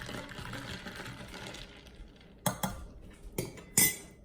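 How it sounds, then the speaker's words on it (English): Sweetener stirred into iced coffee: after a quiet stretch, a spoon clinks sharply against the cup three or four times in close succession. "And put that in there, just stir it up."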